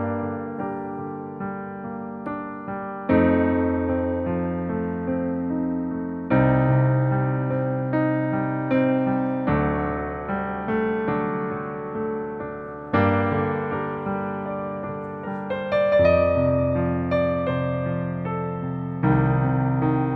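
A solo piano plays a song at a cancer benefit concert, rolling chords and a melody in a steady flowing rhythm, close and clear with no voices.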